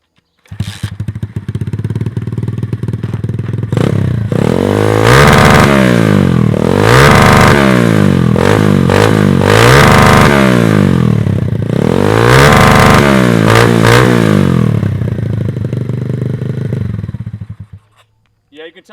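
Pit bike engine held against a 9,000 RPM rev limiter, with a loud close motor that rises quickly to a high pitch and stutters rhythmically at the cutoff for over ten seconds before cutting out.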